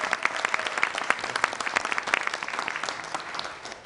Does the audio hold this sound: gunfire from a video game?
no